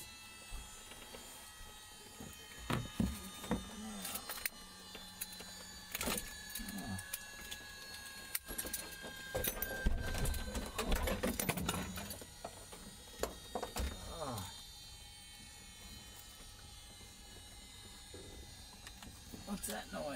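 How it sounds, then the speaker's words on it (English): An autogyro's rotor spinning down after landing at an airpark: a whirring mechanical hum with gliding, slowly falling tones, mixed with clicks and cabin rattles as people talk nearby. "That's the gyro spinning down"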